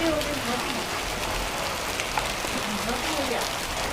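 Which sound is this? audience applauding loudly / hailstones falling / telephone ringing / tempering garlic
hailstones falling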